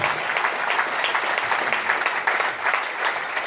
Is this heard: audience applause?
yes